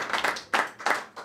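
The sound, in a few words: applause for the teacher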